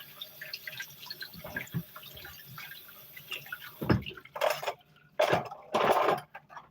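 Food washed under running water in a kitchen sink while cooking chicken and potatoes: quiet clinks at first, then several loud bursts of splashing water in close succession, no talk.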